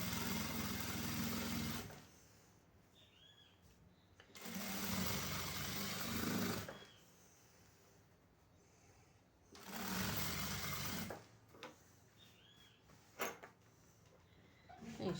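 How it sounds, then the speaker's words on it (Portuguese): A home sewing machine runs topstitching along the edge of a newborn's bath towel, in two loud bursts of steady whirring separated by quieter pauses with handling noise. "Mas eu vou fazer a costura por fora, rebater por fora."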